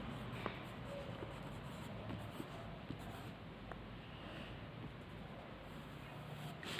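Pens scratching steadily across notebook paper as students in a Hindi classroom write, a soft continuous scraping over low room hiss with no talking.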